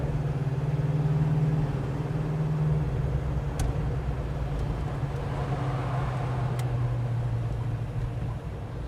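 A gasser hot rod car drives through traffic with a steady low engine drone and road rumble throughout, with a couple of brief faint clicks partway through.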